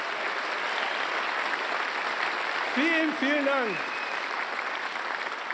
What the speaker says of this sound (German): Das ist so ein Applaus